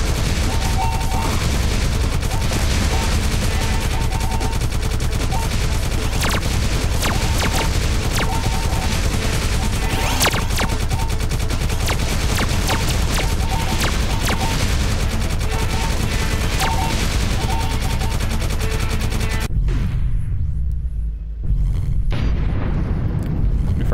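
Gunfire from the video game Galaxy Warfighter, dense continuous shooting and explosions at full loudness for about twenty seconds, with a brief gap before the barrage resumes, and no talk over it.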